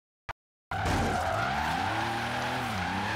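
A car in Forza Horizon 3 drifts on the e-brake, its tires breaking into a loud, sustained squeal over the engine after a single short click, holding steady to the end.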